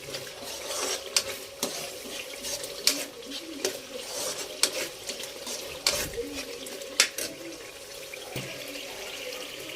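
Water splashing and sloshing as small fish are washed by hand in a bowl, with intermittent clinks and splashes over a running-water background, moderately quiet.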